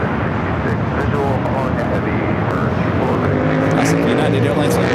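Boeing 747, the Queen of the Skies, on the north side of Los Angeles LAX airport, a loud steady jet roar filling the whole clip and building slightly toward the end.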